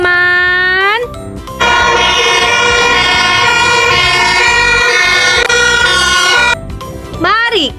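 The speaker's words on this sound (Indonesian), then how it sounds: "Ada mobil unit pemadam kebakaran teman-teman." A toy fire truck wails its electronic siren with rising and falling tones and a loud, sustained, buzzy melody in the middle, close and dominant, with brief pauses and a siren sweep starting again at the end.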